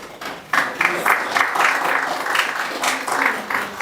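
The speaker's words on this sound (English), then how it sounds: "You can make a high clap for her." Audience clapping at a college event, a broad wash of applause starting after a brief lull and running steadily throughout, with a few louder bursts near the start, filling the room at moderate volume.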